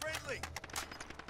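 Rapid bursts of video game gunfire crackle in quick succession during an online shooter match, loud and close, with players' voices talking over the shots.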